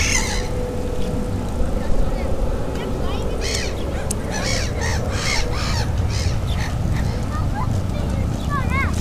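Crows cawing repeatedly around birds being fed near the seaside in Oslo, several harsh calls at mid distance over steady wind and water noise, with people talking in the background.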